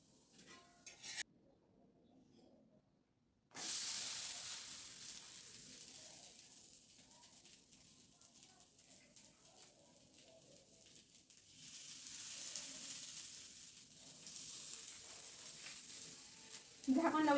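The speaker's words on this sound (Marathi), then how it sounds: "छान दोन्ही साईडने अशी मोठ्या गॅसवरती आता भाजून घेऊया." Pohe thalipeeth roasting over a high gas flame sizzles steadily in the pan, with a soft frying hiss that swells and fades and the occasional scrape of a spatula, close and fairly quiet.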